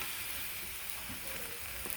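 Shrimp sautéed with bottle gourd and mung beans being stirred in a pan, a soft steady sizzle and hiss with faint scraping, low and close throughout.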